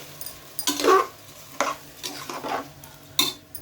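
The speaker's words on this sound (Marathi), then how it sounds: "आपण तांदूळ घालून घेऊया आणि छान याच्यामध्येच आपण ते वरखाली करून घेऊया" Rice turned through red masala, turmeric and salt in a pan for spiced masale bhat, several distinct scraping stirs sounding close and crisp over a faint sizzle, with no speech.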